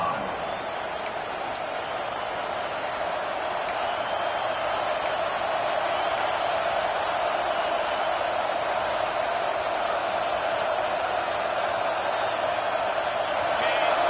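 Home crowd at a football game, a broad steady roar building slightly and holding on third down, with a commentator speaking over the noise.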